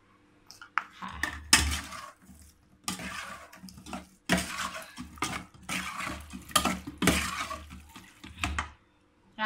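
Pork larb being stirred with seasoning sauce in a bowl: repeated scraping and clinking of a utensil against the dish in uneven bursts, fairly close and moderately loud, with short pauses between strokes.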